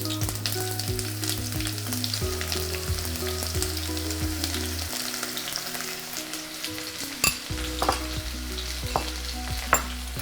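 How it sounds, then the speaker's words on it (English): Shallots and mustard seeds frying in a pan for a lima bean stir fry, a steady close sizzle with occasional pops and a low hum underneath, no voices. "The mustard is almost done doing its dance. We're going to add our shallots."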